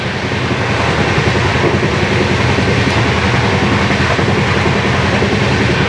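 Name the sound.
Farakka Express train running at high speed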